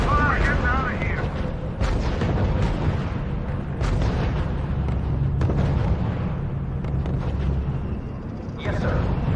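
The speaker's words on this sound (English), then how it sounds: "Unit opening fire on the enemy." Gunfire and explosions from units in the R.U.S.E strategy video game form a dense, loud, continuous barrage of booms and shots, with brief game voice prompts over the top.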